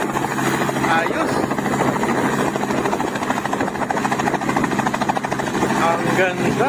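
A helicopter flies low over a village, its rotor beating in a loud steady chop that fills the whole stretch while people talk nearby.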